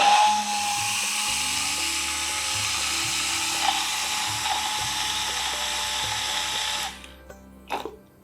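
Buttermilk blended with spices such as cumin is churned with a high-pitched, whirring motorized mixer. The steady buzz runs for about seven seconds with faint mechanical clicks underneath, then cuts off.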